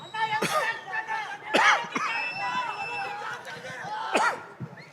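A man coughs several times in short, sharp bursts on stage at a film pre-release event, with crowd chatter and hall noise continuing underneath.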